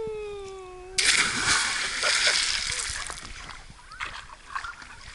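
Loud water splashing as a person jumps into a quarry lake, a sudden burst of spray that churns and settles over several seconds, with voices talking nearby.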